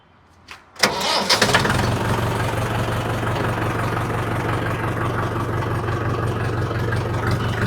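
A tractor engine cranks and catches after a brief start, then settles into a steady, loud, close idle that runs on alone.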